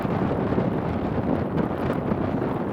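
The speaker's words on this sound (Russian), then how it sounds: "Погода сегодня метель." Blizzard wind during a snowstorm on a winter fishing trip roars steadily and buffets the microphone with a dense, low rumbling rush that never lets up.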